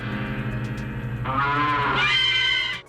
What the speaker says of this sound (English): a cuckoo clock mooing like a cow